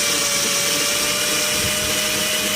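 A hand drill bores steadily into the plastic rear bumper of a Vauxhall Opel Meriva B to fit parking sensors, giving a loud, continuous high whine with no pauses and no talk.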